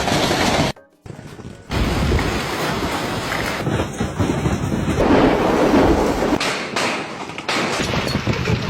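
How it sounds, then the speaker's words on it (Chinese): Large hailstones pelt down in a heavy downpour, a dense, loud roar that cuts out briefly near the start, then pounds on steadily and unbroken. "这么大的冰雹，你的头能接几个？"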